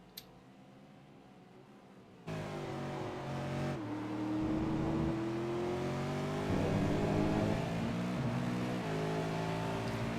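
V8 Supercar race car in an online racing game starting a lap at Road America, its engine droning steadily and rising through the gears after a quiet start, with the pitch sweeping up and dropping at each shift.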